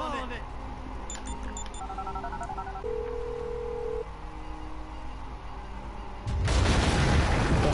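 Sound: phone being taken out and used in GTA video game

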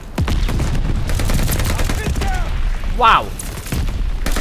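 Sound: gunfire in Call of Duty Vanguard video game

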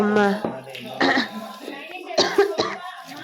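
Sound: coughing from a cold

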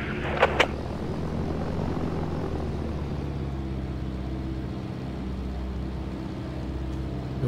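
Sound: airplane engine in a video game (ROS)

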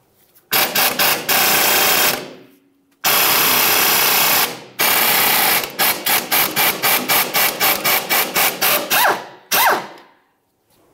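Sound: 14 mm ratchet removing strut pinch bolt on Ford Fusion

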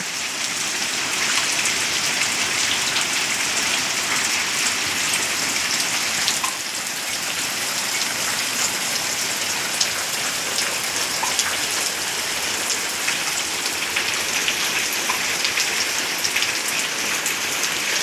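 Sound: heavy rain falling

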